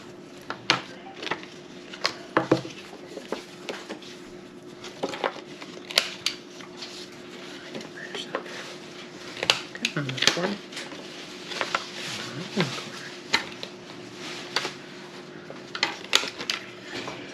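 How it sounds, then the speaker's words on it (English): Paper gift box flaps being folded and creased flat by hand, heard as irregular close, crisp taps, scrapes and rustles. Someone talks quietly underneath. "let's fold and burnish all of these"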